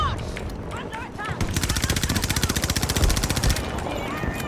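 Rapid automatic gunfire in Battlefield 2042, a steady burst of dozens of shots lasting a couple of seconds, with a voice talking over it.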